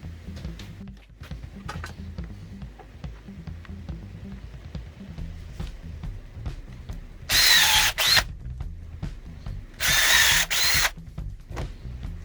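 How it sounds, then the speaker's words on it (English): Power drill boring pilot holes into 2x4 wood for countersunk deck screws, two short, loud whirring bursts about two seconds apart over a low steady background hum. "drill a couple of pilot holes and actually countersink 2 deck screws"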